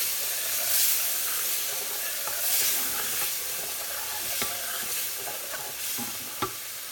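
Gravy sizzles and hisses in a hot pan while a utensil stirs it, giving a continuous frying crackle with repeated scraping strokes and light clinks against the pan, close and moderately loud.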